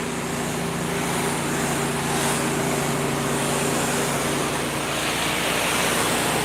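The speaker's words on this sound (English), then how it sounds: "this gentleman here is doing some pressure washing the sidewalk" Pressure washer cleaning a city sidewalk in San Diego, a steady loud hiss of spraying water with a constant motor drone underneath, continuous and close, no talking.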